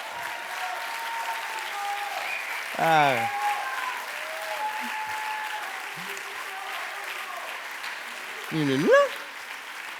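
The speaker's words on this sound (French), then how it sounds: "On peut l'applaudir." Steady applause from a seated audience at a motivational talk, continuous and fairly even throughout, with someone briefly speaking over it twice.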